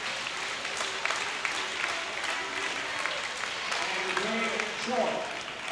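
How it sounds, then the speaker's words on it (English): A 1982 high school basketball crowd at McDowell versus Letcher County keeps up lively rhythmic clapping mixed with chanting, a steady busy roar in the gym under a commentator's voice. "the crowd is keeping up a lively clap, or kind of like a chant with the clap"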